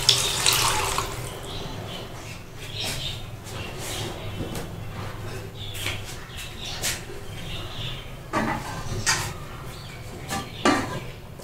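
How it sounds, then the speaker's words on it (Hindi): A glass of water is poured into fried spices in a pan for daal, making a steady running splash with faint sizzling and a few light clinks along the way. "1 गिलास पानी डाल दूंगी।"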